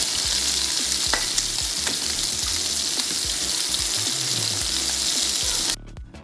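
Beef short ribs sear in a hot pan, a dense close sizzle with knocks and scrapes as the pieces are flipped. The sizzle drops away abruptly at the end.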